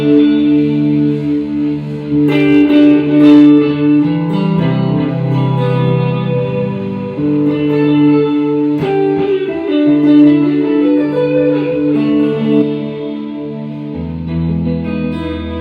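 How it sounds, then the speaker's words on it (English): An electric guitar plays through a delay pedal with a bit-crusher effect, giving gritty, distorted sustained chords and notes with echoing repeats, continuous and fairly loud, with no talking. "So I'll play a sample of the Bit Crushed thing just so you can get the feel of what it does."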